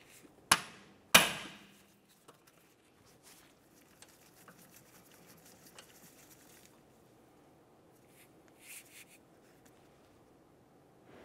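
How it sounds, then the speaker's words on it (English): Two sharp hammer taps on the front brake rotor of a 2006-2011 Honda Civic, loud and close together near the start, then quiet workshop background with faint clinks. "go ahead and give it a couple taps with a hammer"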